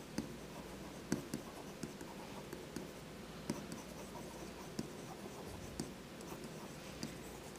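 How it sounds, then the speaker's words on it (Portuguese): Marker or chalk writing on a board during an economics lecture, a faint steady scratching with a string of small taps and strokes, quiet and close, with no talk over it. "Vou escrever aqui."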